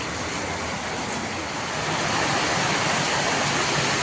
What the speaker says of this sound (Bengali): দেখেন কত সুন্দর করে বৃষ্টি পড়তেছে